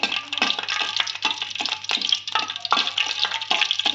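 Whole spices and leaves frying in a pan for jeera rice, a steady close sizzle with repeated crackly bursts and stirring scrapes throughout.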